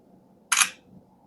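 A single crisp camera shutter click from the front camera of a Realme C100i phone, close and brief in a quiet room.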